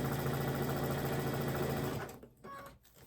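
A sewing machine stitches a sampler quilt block in one steady, close run of rapid needle strokes, then stops abruptly, leaving a few faint handling clicks.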